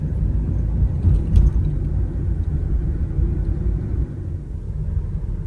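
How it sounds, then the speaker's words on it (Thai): A car drives steadily along a village side road off Rama 2 Road near Wat Ket in Thailand, giving a continuous low rumble of engine and tyres with no talk over it. "ผมก็ขับตรงไปเรื่อยๆครับผ่านหมู่บ้าน"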